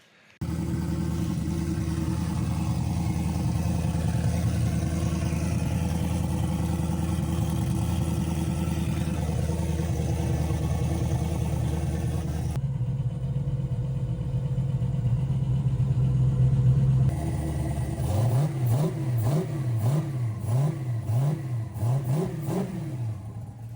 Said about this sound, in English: there's a quick little clip of the Mustang with the new turbo on it